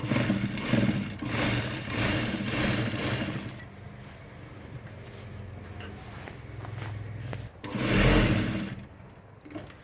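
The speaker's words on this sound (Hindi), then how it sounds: "इस तरह से पूरी सिलाई लगाकर" A sewing machine runs steadily while stitching elastic into ladies' pants, a continuous close whirring hum that eases off in the middle and then surges loudly again near the end.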